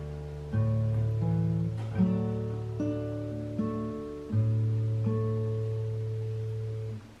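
Guitar part from a song, played as a short phrase of picked notes with sustained harmonics, several distinct attacks ringing out clearly with no voice over it.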